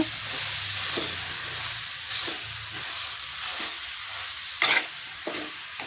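Finely chopped palak spinach sizzles in hot masala oil for palak gojju curry while a spoon stirs and scrapes the pan in repeated strokes, a steady close frying hiss with no voices.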